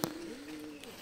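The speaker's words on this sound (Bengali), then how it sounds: "আর এই যে লোটন নটটা ডাকছে" A Lotan pigeon coos once in a smooth, rising and falling call, close and clear over quiet surroundings.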